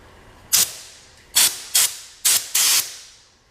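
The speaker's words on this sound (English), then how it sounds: "Oh, I got compressed air. That'll work." Can of compressed air sprayed in five short bursts, each a sharp loud hiss that stops abruptly, with the last blast held slightly longer, close to the mic against a quiet background.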